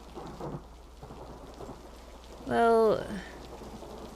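A thunderstorm with steady rain falling, and a loud rumble of thunder building and fading midway. A brief spoken word comes early over the rain.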